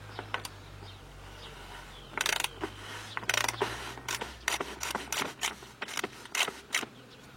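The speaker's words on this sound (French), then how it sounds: "Je pense que je vais prendre la clé dynamométrique pour essayer." A torque wrench tightening a bicycle bottom bracket, giving a series of quiet ratcheting clicks in irregular bursts, close up with no talk.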